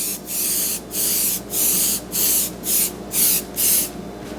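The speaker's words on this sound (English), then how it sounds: "I'll go ahead and hit it with a light spray of the pink food color" Airbrush spraying pink and blue food colouring over a stencil on a cake top, seven short even bursts of airy hiss in a steady rhythm, with a faint background hiss between them.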